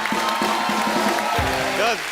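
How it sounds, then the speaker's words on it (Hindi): A studio audience on a TV comedy show applauds a guest, Jackie Dada: a broad, sustained wash of clapping and crowd noise runs beneath voices talking over it. "जैकी दादा के लिए जोरदार तालियां"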